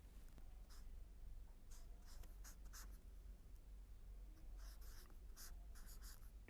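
Pen or marker writing out a math formula, short scratchy strokes in quick bursts with pauses between them, close and quiet, no talking.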